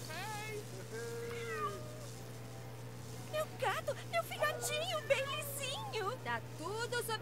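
A cat in LEGO The Incredibles meows repeatedly, several short rising and falling cries bunched in the second half over a steady game hum, after a quieter stretch with a faint voice.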